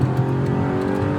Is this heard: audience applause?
no